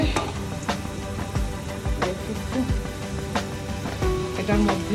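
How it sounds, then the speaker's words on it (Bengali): Dried chillies frying with onions in a pan for shahi bhuna khichuri, a dense close sizzle with scattered crackles and the scrape of stirring, continuous and fairly loud. "শুকনো মরিচটা পেঁয়াজের সাথে এটা একটু ভাজবে"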